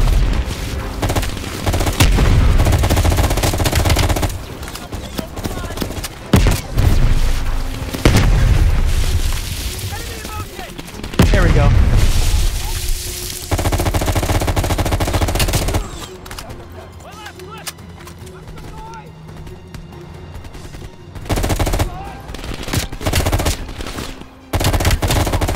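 Loud, dense machine-gun bursts and booming explosions from the PC shooter Call of Duty: Black Ops Cold War fill most of the stretch, easing to sparser shots and quieter combat toward the end, with occasional voices in the mix.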